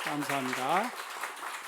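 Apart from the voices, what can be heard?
applause at a church service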